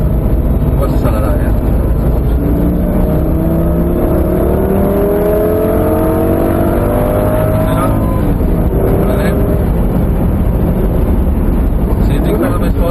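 A Lamborghini accelerating hard around a race circuit, heard loud from inside the cabin as a steady engine roar with rising harmonic sweeps through the gears, while people talk over it.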